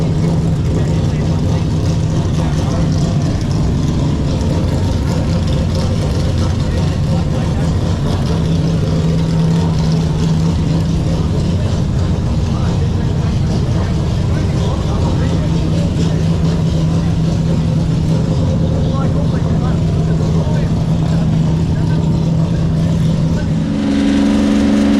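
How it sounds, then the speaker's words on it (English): Historic touring race cars roar past at a race meeting, a dense, continuous engine blare with shifting revs that fills the whole stretch and stays loud throughout, with a commentator's voice over it. "These things are serious race cars"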